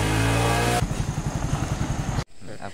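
A motorcycle arrives close by with a loud engine roar, then settles into a steady, rapid putter before cutting off abruptly.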